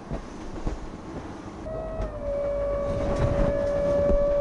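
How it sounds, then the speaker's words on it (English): A hydraulic bed lift on a 2012 Fleming 55 boat runs with a steady whining motor tone that starts partway in and holds level over low cabin rumble and a few soft knocks. "Hydraulic bed lift"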